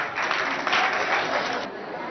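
Audience at a school singing competition in Mongo, Chad, applauding a student singer from a bilingual secondary school, a steady dense wash of clapping and crowd noise for about two seconds with no clear voices.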